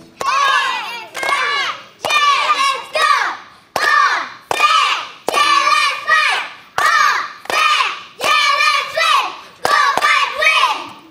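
Kindergarten children shout a group chant in unison, a series of loud, rhythmic bursts repeated about ten times with brief pauses between them.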